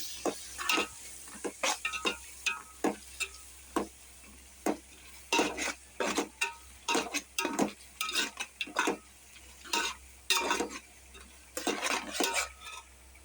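Chili powder and onions fry in oil in a pan for mutton biryani, stirred with a metal spoon. Rhythmic, close scraping and clinking strokes repeat over a soft, steady sizzle.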